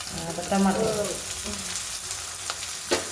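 Tomatoes hit hot oil in a pan while misal is cooked, a brief loud sizzle followed by steady quiet frying and a few light stirring clatters.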